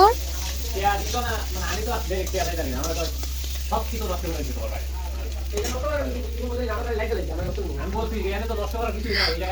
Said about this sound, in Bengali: সবকটা আলুই কড়াইয়ের মধ্যে দেওয়া হয়ে গেছে এখন আমি নাড়িয়ে নিচ্ছি